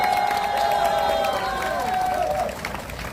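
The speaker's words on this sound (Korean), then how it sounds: "그 장한 청년들을 위해서 여러분 뜨거운 박수로 응원을 해주시기 바랍니다." Audience applause and crowd noise at a political rally, a steady wash of clapping under a sustained whistle-like tone that fades out near the end.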